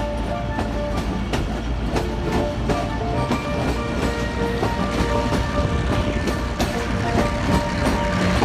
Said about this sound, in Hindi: ट्रेन डिपार्ट कर रही है सुलेमानाबाद रेलवे स्टेशन से